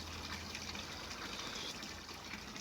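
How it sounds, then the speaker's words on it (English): A koi pond waterfall runs continuously, a dense, even rush and splash of falling water that stays loud and steady with no voices. "Waterfall's still running nicely."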